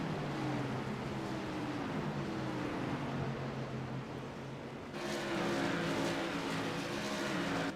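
Race cars roaring around an oval raceway during an evening race, a steady loud engine drone with a shift in pitch midway as cars pass, no voices.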